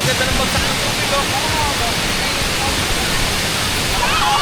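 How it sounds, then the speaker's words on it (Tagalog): Water falls at Wawa Dam in Rodriguez, Rizal, a loud continuous broadband rush of cascading water that fills the scene throughout without pause. "Ganda ng bagsak ng tubig, oh."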